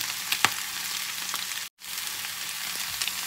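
Konjac noodles and cabbage stir-fry in oil, giving a steady close sizzle with faint stirring scrapes and a brief dropout midway.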